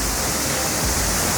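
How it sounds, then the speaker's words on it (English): Waterfall in Tigoni, Kenya, roaring as a steady, dense wash of falling water close by, loud and unbroken throughout with no voices over it. "we've just made it to the waterfall"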